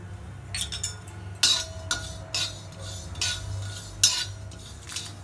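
Whole spices such as black pepper, cloves, coriander, mustard and cumin being dry-roasted in a pan for sambar, with a spoon clinking and scraping against the metal in irregular bursts, close and fairly loud over a low background hum.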